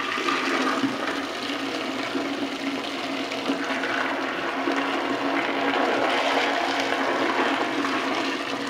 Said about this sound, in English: we'll show the bucket dump right now